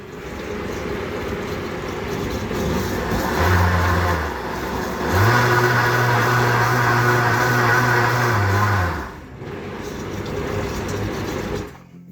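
A Vitamix blender motor whirs loudly in two bursts, a short one and then a longer steady run, before cutting off and leaving quieter background noise.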